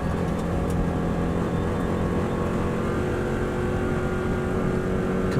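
A 2018 Subaru Impreza engine roars at full throttle through sixth gear, a loud continuous drone with a steady low rumble and no break in intensity.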